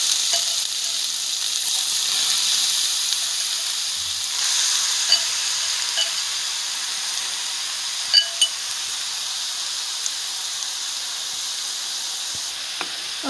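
Carrots fry in ghee in a hot kadai, making a soft, even sizzle that runs throughout, with a few sharp spoon clinks against the metal.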